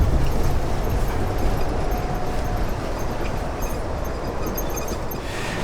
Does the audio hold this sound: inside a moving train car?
yes